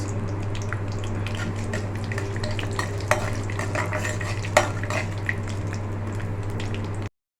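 Onion, tomato, garlic pods and curry leaves sautéing in a pan for a Chettinad garlic kuzhambu, a steady hiss and sizzle with a few light clinks of a spoon against the pan.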